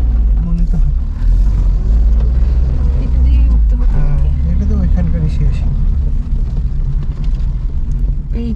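Cars roll down a steep hill road on the way from Siliguri to Mirik, giving a loud, close, continuous low engine rumble beneath people talking throughout.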